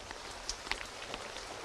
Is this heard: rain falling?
yes